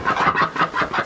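Farm poultry, chickens and geese, call from their pen in a quick run of five or six rhythmic clucks and squawks, close and fairly loud with no talk.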